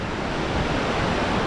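Pacific Ocean surf at Santa Monica beach, a continuous broad wash of breaking waves mixed with wind rush, steady and fairly close with no voices.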